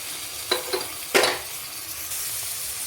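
Chopped tomato drops into a pan of sautéing onions and vegetables, giving a few quick hissing bursts of sizzle and a short stir, close and fairly clear, with no talking.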